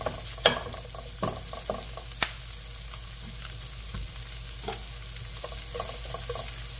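Garlic and chili stir-fried in a pan for lo mein sizzle steadily, broken by several sharp clacks of the stirring utensil against the pan.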